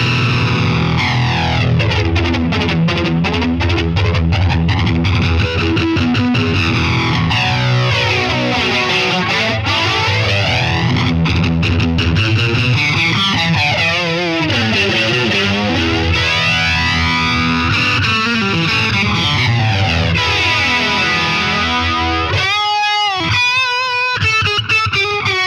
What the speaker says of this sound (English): Grey flanger.